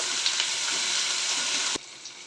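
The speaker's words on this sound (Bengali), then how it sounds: "পেঁয়াজ, টমেটো, ক্যাপসিকাম কেটে রেখেছি, এগুলো দিয়ে দেবো। সব একসাথে ভেজে নেব" Onion, tomato and capsicum frying together in garlic oil for chilli chicken, a loud steady close sizzle that drops suddenly quieter near the end, no voices.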